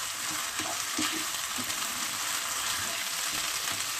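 Rice frying in a pan over lowered heat, a steady broadband sizzle with soft stirring scrapes, close and continuous without speech.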